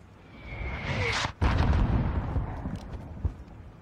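Mortar explosions in a war video game, heard as deep rumbling blasts with one sharp, loud impact midway and a rolling low boom afterward.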